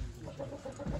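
A Black Mottled Brahma rooster at a poultry auction gives a short run of low, repeated clucks over a steady murmur of background noise.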